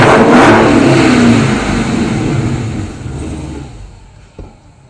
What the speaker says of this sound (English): And that, my friends, is the sound of 700 horsepower.